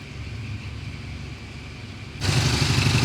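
A Triumph Bonneville engine running too rich churns steadily nearby with a frantic, high-revving note. It grows noticeably louder and rougher toward the end.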